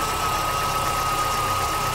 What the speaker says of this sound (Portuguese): olha o motor do Golzinho funcionando redondinho, bonitinho